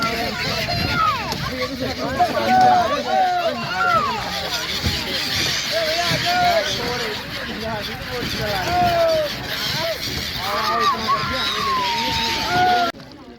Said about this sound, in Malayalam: ബോട്ടിലിരിക്കുന്നവർ ഒച്ചയിടുന്നുണ്ട്.